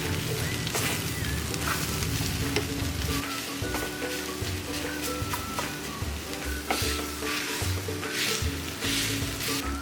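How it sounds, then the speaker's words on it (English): Jackfruit mixture fries in a hot tadka, with a loud, continuous sizzle and intermittent scraping of a spoon stirring the pan, and no voices. "add it to the tadka. And mix this all well."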